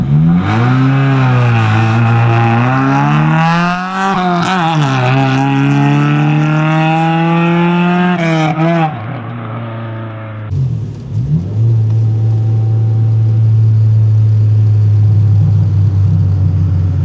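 A young driver's first car is revved hard for a launch start, its loud engine note climbing and wavering in repeated surges before dropping to a rough, rumbling idle and then a steady heavy drone.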